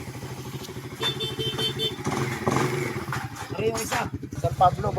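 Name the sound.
motorcycle engine running after connecting rod and block repair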